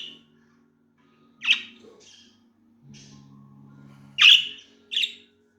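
A pet budgie near a television gives several short, bright chirps in separate bursts, two of them loud and close, over a faint low hum from the room.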